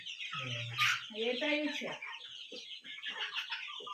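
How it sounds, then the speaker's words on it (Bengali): Guinea fowl clucking close by in short, rhythmic bursts, with someone talking over and between the calls. "তিতির মুরগি এটাই"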